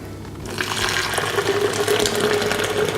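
Boiling water poured from a kettle into a mug while making a cashew milk drink, a steady close splashing stream that begins after a brief quiet moment and runs continuously to the end.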